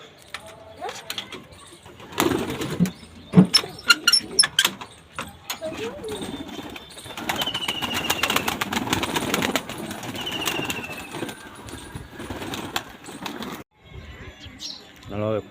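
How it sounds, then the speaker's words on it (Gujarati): Pigeons let out of their coop at a farm under rainy skies, with scattered wing flaps and fluttering bursts over outdoor ambience while people talk nearby. "આવી ગયા આપણા કબૂતરના સેટઅપે. કબૂતર ખોલી એટલે ચણી લઈએ."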